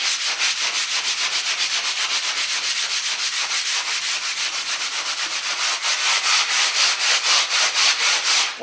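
Hand sanding a drywall mud patch over a door knob hole, fast rhythmic back-and-forth rasping strokes, close and steady, growing slightly louder near the end.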